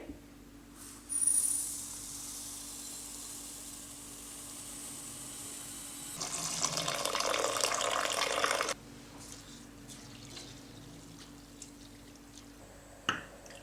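Tap water runs into a bowl of half a cup of red lentils (masoor dal) being rinsed in a home kitchen, a steady rushing stream for a few seconds after a brief splash, fairly faint.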